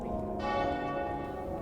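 Bells ring out at Derby Cathedral, a loud, rich sustained peal with overlapping tones and no speech.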